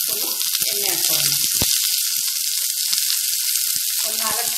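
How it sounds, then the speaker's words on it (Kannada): Garlic and a few spoons of oil hit a pan and set off a continuous, broadband sizzle. Occasional scrapes and clinks break through it, with no talking over the hiss. "ಬೆಳ್ಳುಳ್ಳಿ ಹಾಕೋಣ, ಹೀಗೆ 3-4 ಸ್ಪೂನು ಎಣ್ಣೆ ಹಾಕೋಣ."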